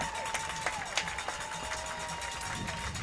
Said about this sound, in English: Let's give that boy one more big round of Hawk applause.